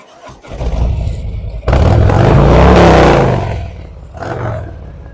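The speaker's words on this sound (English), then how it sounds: "We got a really nice sound out that exhaust system." A 2022 Harley-Davidson Street Glide Special fitted with Reinhardt slip-on exhaust pipes revs up close, a deep loud roar that swells, holds, then eases back to a lower rumble.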